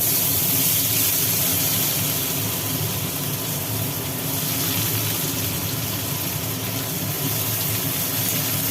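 Chopped onion frying with black cumin in hot oil gives a steady, broad sizzling hiss that holds evenly throughout, close and continuous, with no talk.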